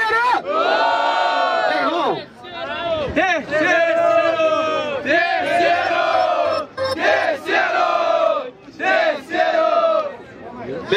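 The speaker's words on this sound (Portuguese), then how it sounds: "Faz barulho e joga a mão pro alto quem gostou mais da rima da MC Xamã" Crowd at a street rap battle in São Gonçalo roaring, cheering and shouting in loud sustained waves, many voices yelling together close up with brief dips between bursts.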